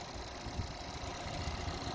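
A 2016 Buick Verano's 2.4-liter four-cylinder engine idles with the hood open, a steady, even hum and low rumble with no voices.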